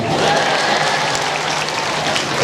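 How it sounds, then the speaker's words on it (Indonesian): An audience at a Maulid Nabi religious gathering breaks into steady, dense applause, loud and continuous throughout with no talking over it. "Tepuk tangan lah kalian."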